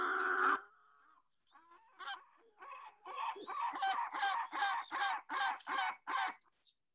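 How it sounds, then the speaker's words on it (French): A great black-backed gull gives a series of deep, rhythmic barking calls that speed up into a steady run of loud, evenly spaced notes, clear against a quiet background. "le goéland marin qu'on vient d'entendre"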